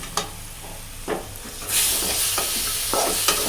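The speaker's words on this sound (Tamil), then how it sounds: "ஸோ அதையும் இது கூட ஆட் பண்ணிவிட்டு மசாலா கூடயே இதையும் நல்லா மிக்ஸ் பண்ணி விட்டுப்போம்" Tomato stirred into a masala for chicken and potato curry, with a spoon scraping the pan in a few distinct strokes over a soft sizzle, close and clear with no talking.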